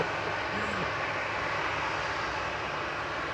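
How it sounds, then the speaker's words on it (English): Just after touchdown at Manchester Airport, an Air Maroc jet in retro livery rolls out with a constant, heavy engine rumble, loud and unbroken from start to finish. "Air Maroc has just touched down"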